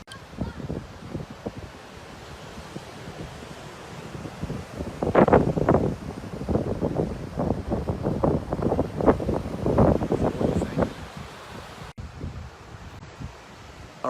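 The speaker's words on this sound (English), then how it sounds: "Can you hear me okay, or is it super windy right now?" Outdoor wind buffets the microphone in a continuous rough roar, with gusts thumping and swelling louder through the middle before easing off.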